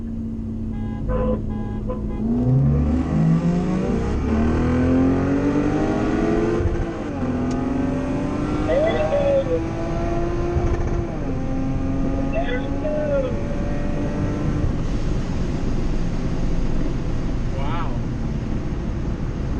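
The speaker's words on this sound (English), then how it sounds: "Next, let's do some roll racing." Supercharged Lexus IS 350 in a roll race, the engine note rising steadily in pitch as it accelerates hard through the gears, with a brief shift dip and continuous loud drone, people talking over it.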